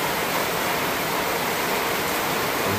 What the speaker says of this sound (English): And you see it's leaking down the back wall here.